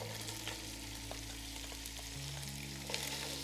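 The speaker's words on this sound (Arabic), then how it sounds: "هسه راح نضيف قطع اللحم، راح نخليها ايضا تنحمس شوية وتاخذ لون جميل" Pieces of meat sizzle steadily in hot olive oil in a pan for stewed Iraqi white beans, with a continuous close frying hiss and a few faint clicks, with no talking.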